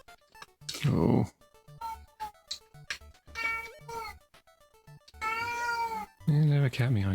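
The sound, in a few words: cat meowing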